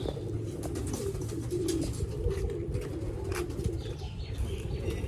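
Pet teddy pigeons from Kuwait coo in a group, low rolling throaty coos overlapping in a continuous murmur, with occasional wing flaps and chirps, fairly close and steady throughout.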